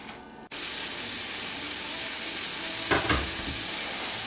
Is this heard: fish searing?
yes